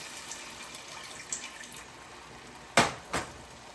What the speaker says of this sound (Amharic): ውሃ ትንሽ ውሃ አረጋለሁ የሚበቃኝ ያክል።